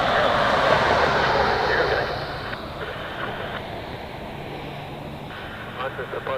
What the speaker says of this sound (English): we'll catch the 7-4 coming in